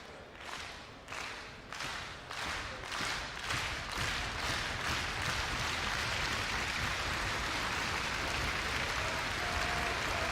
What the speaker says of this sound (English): Polite applause here in Wembley